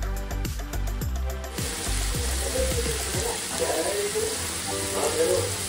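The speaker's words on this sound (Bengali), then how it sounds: "পেঁয়াজ দিয়ে দিয়েছি, এটা একটু ফ্রাই হোক।" Onions fry in a pan with a continuous crackling sizzle, preceded by a few low knocks and clanks at the start.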